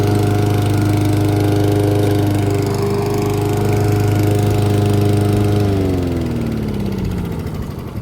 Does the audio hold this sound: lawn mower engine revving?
yes